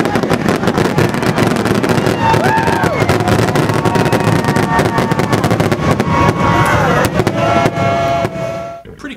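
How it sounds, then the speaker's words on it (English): Epcot fireworks display at Walt Disney World: continuous loud booming and crackling bursts with whistling rises, sustained throughout and fading at the very end. "got some Epcot fireworks for us"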